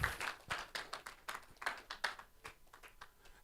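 Applause at an investors roundtable for a woman who has just spoken, a scattered patter of claps in loose rhythm, fairly faint and distant, with no talking over it.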